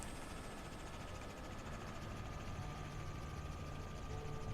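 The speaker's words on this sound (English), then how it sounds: "that's a helicopter." Steady engine and rotor drone of a Robinson R66 helicopter in Microsoft Flight Simulator 2024, flying over the Cascade Range; a continuous, even hum with no talk over it.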